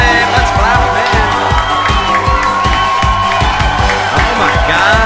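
Studio audience cheering, whooping and clapping to welcome a game show winner, a loud, dense wall of crowd noise over steady rhythmic music beats throughout.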